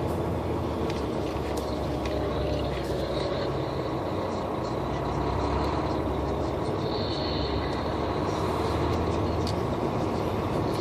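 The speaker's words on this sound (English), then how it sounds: "there's the fuel tanker that brings the fuel in." A fuel tanker truck at a Flying J truck stop gives off a steady, fairly distant diesel rumble, mixed into the constant drone of idling rigs and yard noise, with no voices.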